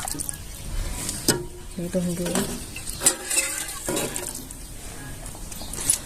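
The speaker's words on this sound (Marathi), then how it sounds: "पाणी घालून घ्यायचं गरम पाणी घालायचं" Hot water poured into roasted ground rice in a cooking pot gives a wet sizzle and splashing stir in short bursts, with a voice talking over it.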